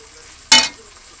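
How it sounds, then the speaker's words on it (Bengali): Ground cumin, Kashmiri chili and mixed spices hitting a hot pan give a single loud, brief hiss and sizzle that fades quickly into quiet. "এবারে মশলাটা দিয়ে সব রকম মশলা দিয়ে কষানো হবে"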